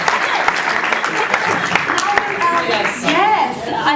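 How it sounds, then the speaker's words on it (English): Audience applauding for Celine Dion at a Eurovision 2015 meet-and-greet in Vienna, a steady wash of clapping and crowd noise running throughout with voices mixed in. "a big applause to Celine Dion!"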